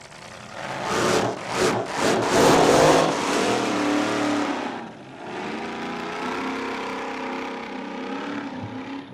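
The racing boat Bad Karma's engine roars out for a warm-up practice lap on the lake at the Glenmaggie Cup, with a loud surging burst that settles into a steadier droning run.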